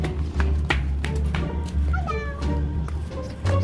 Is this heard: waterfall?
no